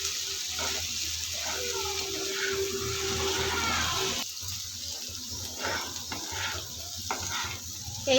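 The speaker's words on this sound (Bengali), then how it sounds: "এইভাবে ভাজা করবেন উচ্ছে" Bitter gourd frying in a pan with potato and onion, a steady broadband sizzle with occasional stirring scrapes, fairly close and continuous, with no voices.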